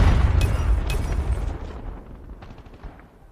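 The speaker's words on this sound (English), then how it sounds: "Friendly Predator missile inbound." A Predator missile strike in a video game lands as a heavy explosive boom with dense rumbling gunfire, loudest at first and then fading into scattered distant shots and pops.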